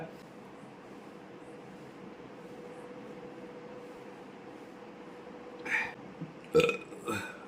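Burping after drinking water, a couple of short close belches near the end following a quiet steady background hum.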